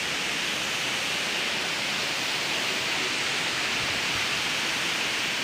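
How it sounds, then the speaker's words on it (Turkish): Karasu Waterfall in Düziçi, Osmaniye, Turkey, roars as a dense, unbroken rush of falling water, loud and even from start to finish with no voices. "Osmaniye'nin Düzüçi ilçesinde bulunan Karasu Şelalesi."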